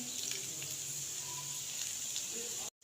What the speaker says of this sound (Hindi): सारे पैन में मैंने पकौड़े डाल दिए हैं। अब इसको हम अच्छे से फ्राई कर लेंगे।